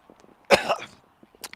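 One sharp, close cough bursts out to clear a lozenge from the throat, with a softer throaty follow-through, then faint rustles and a brief breathy noise.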